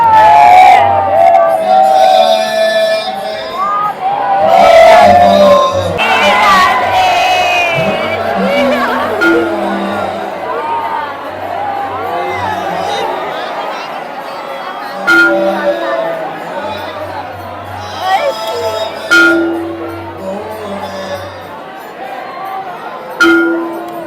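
Dense crowd of devotees at the Radha Vallabh temple in Vrindavan, a loud continuous wash of chatter and shouts with occasional whoops and clinks throughout, people talking close by.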